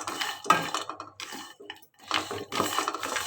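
Dry nuts being roasted rattle and scrape against a metal pan in short bursts, stirred close up with brief pauses between.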